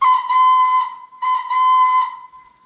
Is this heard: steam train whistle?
yes